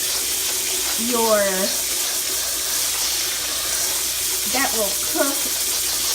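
Steady hiss of cold tap water running into a basin, with two brief bursts of a voice speaking nearby over the flow.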